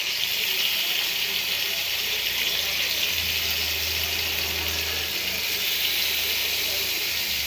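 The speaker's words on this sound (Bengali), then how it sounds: "সেই বেগুনের তেলটাই কিন্তু রয়েছে, ওটা দিয়েই কিন্তু আমি আবারও উচ্ছেটাকে ভেজে ফেলছি" Bitter gourd frying in eggplant oil left in the pan from an earlier batch, giving a steady, loud hissing sizzle that runs unbroken throughout.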